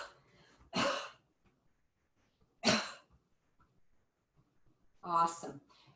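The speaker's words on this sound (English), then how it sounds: "Tap your kidneys and cough." Three sharp, breathy coughs during a Qi Gong class, spaced a couple of seconds apart, close by, with quiet pauses between them.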